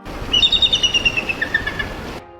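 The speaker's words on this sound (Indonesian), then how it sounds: "Sementara elang potak punya suara yang lantang." An elang potak eagle calls loudly and close, a rapid series of about a dozen shrill, clear pulses that slowly drop in pitch before cutting off abruptly.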